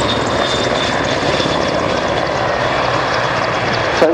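Royal Navy Merlin HM1 helicopter making a running landing, a loud, steady broadband roar of rotors and turbine engines with a whining tone, holding near and constant throughout with a brief sharper burst at the end.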